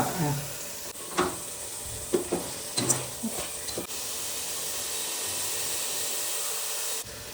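Egg roast curry in a pan, Kerala style, with fried onions being stirred in: a steady hiss of frying with a few sharp scrapes and taps of the spoon early on, then continuous sizzling alone.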